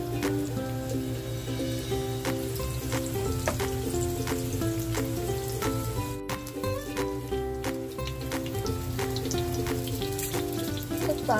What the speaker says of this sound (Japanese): 油多めの揚げ焼きみたいな感じですね。